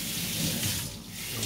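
Running tap water pours steadily over a nakiri kitchen knife being rinsed after sharpening, a continuous close splashing hiss with no talk.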